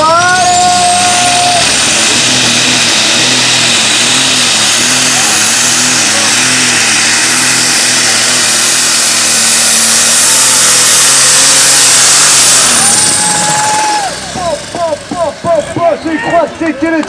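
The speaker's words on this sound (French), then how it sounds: "On monte le moteur tout doucement dans les tours." A tractor-pulling competition engine revs hard and holds at a high roar for several seconds, then cuts out to rattling and shouts in the background.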